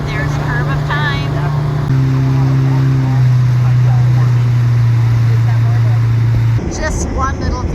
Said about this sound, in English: If you can hear over the noise of that nice big diesel engine here that's right beside me.